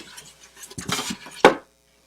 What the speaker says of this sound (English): Putting some ice in Grogu.